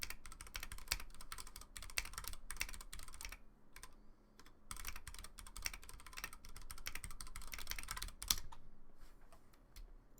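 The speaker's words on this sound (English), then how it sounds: "I love the sound of my keyboard." Mechanical keyboard typing fills the scene with rapid, irregular bursts of crisp key clicks, near and steady, pausing briefly at a few points, with no talk over it.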